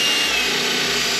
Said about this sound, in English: what we're going to do is drill a little hole there